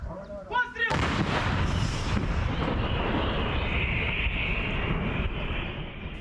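After a brief voice, a huge blast booms out as a 2S1 Gvozdika self-propelled artillery gun fires, followed by a long rumbling roar that slowly fades into the distance.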